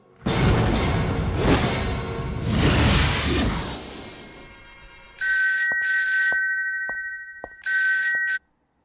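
A telephone rings in two short bursts of bright, trilling bell tones, loud and close. Whooshing sweeps come just before the rings.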